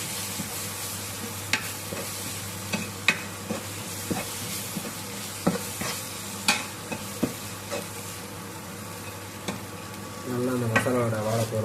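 Mutton head curry masala with chilli, mutton masala, curry powder and turmeric being sautéed and stirred in a pan, giving a steady close sizzle broken by sharp clicks of the spoon against the pan, louder and more bubbly toward the end.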